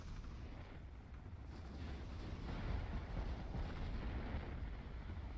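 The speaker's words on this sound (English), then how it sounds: "Looks like 18 inchers hitting their deck and penetrating" Eighteen-inch battleship shells slam into and penetrate a ship's deck during a Japan-versus-US naval battle in the game Ultimate Admiral: Dreadnoughts, a dense, loud, continuous rumble of overlapping booms that swells slightly midway, with no talking.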